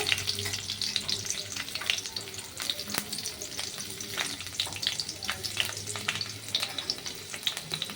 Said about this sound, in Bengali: এবার রসুনগুলো ভেজে নেব।